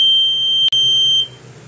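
An Arduino temperature alarm buzzer emits a steady, piercing high tone with a tiny break in the middle, then cuts off, leaving low room noise.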